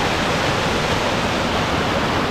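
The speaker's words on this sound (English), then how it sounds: "we're literally walking just alongside the edge of the waterfall here. And you can hear the power of it." A waterfall roars beside a mountain trail on the Annapurna route in Nepal, a steady, loud, dense rush of falling water that fills the scene without a break and with no voices over it.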